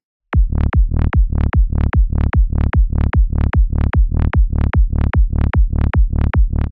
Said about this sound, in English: there is an extra preset in here called Slimy Bass